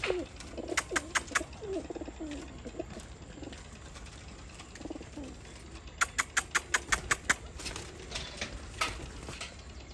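Pigeons in a breeder's loft coo and flutter close by, with a soft rumbling coo and a quick run of sharp clicking taps, like wings or feet.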